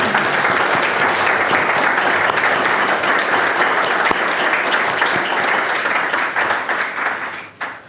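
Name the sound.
audience applause at alumni reception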